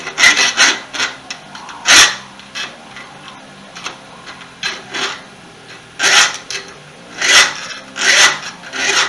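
A rasp files the teeth of a pipe tomahawk held in a vise, giving short, loud, gritty strokes in irregular bursts with brief pauses between them, heard up close with no talk.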